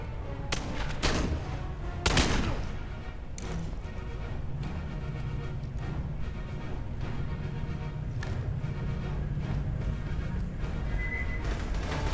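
Gunfire in the Aliens Colonial Marines video game comes as repeated sharp shots and short bursts, loud and close, spread irregularly through a dense battle mix.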